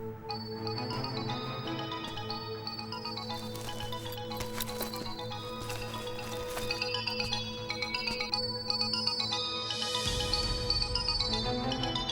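A mobile phone ringtone plays in a classroom, a continuous melodic electronic tune with chiming notes sounding fairly quiet and steady throughout, without speech.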